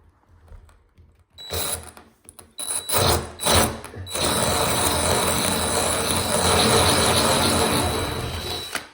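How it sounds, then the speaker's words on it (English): A power drill with a 5/16-inch bit starts in short bursts, then runs continuously with a grinding whine as it bores through tile, close and fairly loud. "So we have our bigger drill bit."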